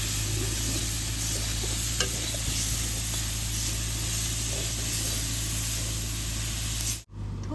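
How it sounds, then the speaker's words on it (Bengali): Potatoes and banana flower fry in oil in a pan while being stirred, a loud steady sizzle with scraping, close and continuous, cut off abruptly near the end. "এরকম করে সুন্দর করে ভাজা ভাজা করে নেব"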